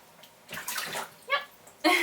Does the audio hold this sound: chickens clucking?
no